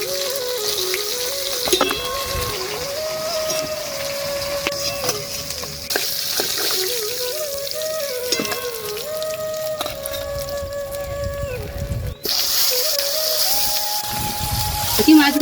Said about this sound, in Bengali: বাকি মাছগুলো এইভাবে সব ভেজে নেব